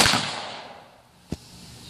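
Small ring cannon firing a .22 caliber blank: a single sharp, brief crack, fairly faint, following a fading earlier noise and then quiet.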